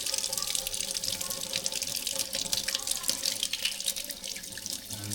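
Steady stream of tap water running into a sink while boiled eggs are peeled under it, a constant hiss and splash heard close up with no pauses.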